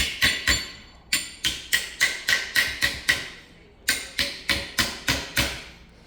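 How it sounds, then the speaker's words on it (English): A steady run of sharp metallic hammer taps on a tooling plate, about a dozen strikes in two bursts with a brief pause between, each ringing briefly and loud. "We always give them a little whack with the hammer just to make sure that they stay on the plate."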